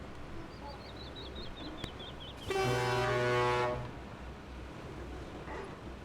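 A vehicle horn in RoadCraft gives one sustained, loud, tonal honk lasting over a second, after a faint chirping series and amid steady low engine rumble.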